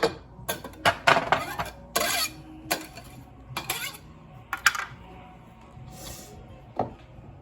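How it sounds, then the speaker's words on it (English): A spoon scraping and clinking against a bowl while onion is mixed into meat, irregular near knocks and clatters with quieter gaps between them. "And then just stir it all up"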